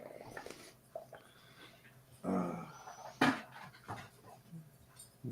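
A dog pants in short, breathy bursts close by, with a louder puff or two and faint rustling between them, and no talking.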